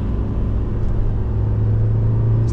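A 2024 Toyota HiLux 48V hybrid diesel pickup engine drones steadily from inside the cab at full throttle, a low rumble with a hum that strengthens as it pulls harder.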